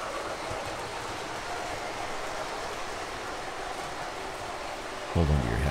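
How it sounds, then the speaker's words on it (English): An MTH Pittsburgh Steelers Express O-gauge model train runs along the track with a steady rolling rumble, and a brief louder clatter comes near the end. "we're running the Pittsburgh Steelers Express MTH train"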